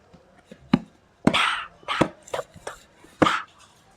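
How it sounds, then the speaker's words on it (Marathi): A knife chopping into a whole jackfruit, sharp, close thuds and cuts spaced irregularly, some louder strikes followed by brief scraping, with no talking. "आणि याला कट करू आणि मस्तपैकी याचे फणसाचे गरे काढू"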